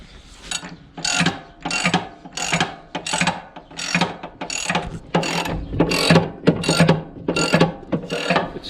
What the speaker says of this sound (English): We're going to tighten this chain up here.